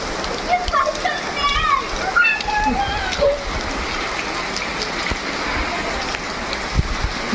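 Water falling like constant rain inside a hilltop temple, a steady dense patter and splashing that fills the whole stretch, with bird-like chirps and people talking faintly beneath.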